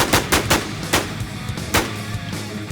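Rapid bursts of gunfire from the online survival shooter game Infestation, a handful of loud sharp shots in quick clusters with a short pause before another volley, no voices over them.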